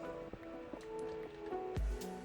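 Water released in a Minecraft world, heard as soft drips and squishy liquid splashes with a louder gush near the end, close and fairly quiet over faint game ambience.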